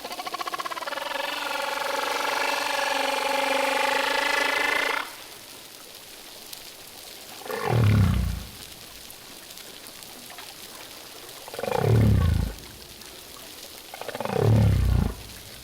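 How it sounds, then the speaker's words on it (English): Humpback whale song: a long, harmonic bellow lasting about five seconds, then after a pause three deep, downward-sweeping croaks spaced a few seconds apart, loud and alone. "that is part of humpback whale song"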